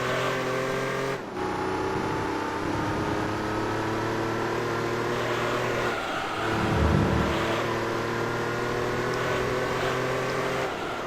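Sustained high-revving racing engines from Gran Turismo 3, a Porsche dueling a TVR Tuscan for the lead, a steady layered drone with a brief dip and a louder swell as cars close in.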